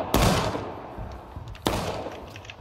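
Musket volleys ring out in the Civil War video game War of Rights: a sharp crack, a rolling echo, then a second loud blast about one and a half seconds later over faint background noise.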